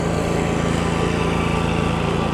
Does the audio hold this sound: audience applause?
no